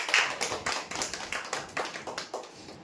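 Applause for a prize winner at a lucky-draw announcement: a short, steady round of clapping from a small crowd, fairly close and even in rhythm, with no voices over it.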